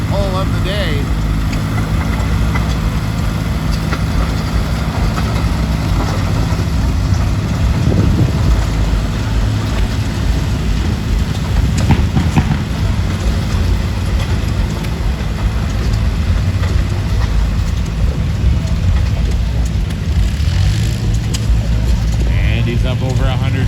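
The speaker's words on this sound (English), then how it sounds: "This is Ryan Wright, his second pull with that John Deere garden tractor." A John Deere garden tractor strains through a pull on a wet, muddy track at the Aldergrove Fair, its engine a steady loud drone beneath continuous announcer commentary and crowd noise.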